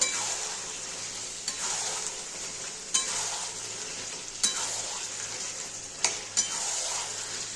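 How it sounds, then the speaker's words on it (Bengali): Chicken pieces sizzle loudly in a frying pan of cooked-down spices and turmeric for a spicy chicken kosha, with a spoon scraping and stirring at intervals against a steady close frying hiss. "এবার আমি চিকেনগুলো সব দিয়ে দেবো। একটু নেড়ে দেবো।"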